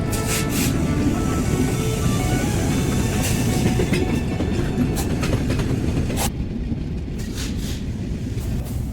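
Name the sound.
Chilahati Express train running on rails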